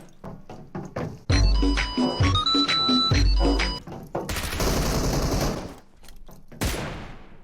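Gunfire in the PUBG Mobile video game, loud rapid bursts of shots up close mixed with tonal game effects and a stretch of noisy blast, with brief gaps between volleys.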